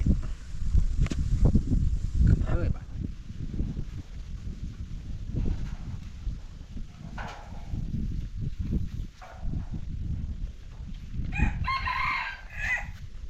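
A rooster crows repeatedly and chickens cluck around it, steady and fairly close, over constant rough background noise with a louder high crow near the end.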